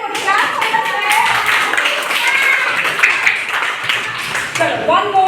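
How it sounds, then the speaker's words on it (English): Several young children in a phonics lesson clap their hands together in a lively, steady burst of applause, close and loud, with an adult voice and children's voices talking over it. "Clap for yourself."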